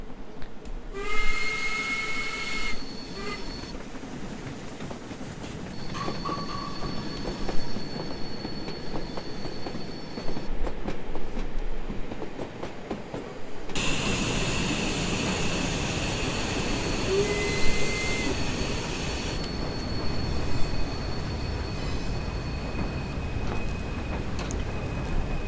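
A vintage steam locomotive in Train Sim World rumbles along the rails with squealing wheels and short whistle tones, and the sound gets louder and fuller partway through.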